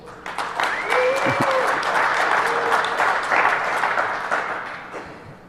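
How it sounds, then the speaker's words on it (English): A conference crowd at DEF CON cheers and applauds loudly as a vote, with a sustained wash of clapping and a few whistles and shouts that swells and then gradually fades. "for the Art of Cyber War with Kenneth Gears, if you want to vote for that for Captain Obvious Award, make some noise, please."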